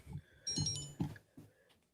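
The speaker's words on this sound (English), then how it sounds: "Someone's phone going off." A phone ringtone goes off during a live online talk about prehistoric mound builders, a short, bright melodic tone with rumbling tones underneath, fairly quiet and without speech.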